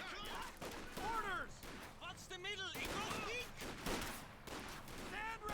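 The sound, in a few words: gunfire between Grenadiers and rifle squad in Company of Heroes 2 (video game)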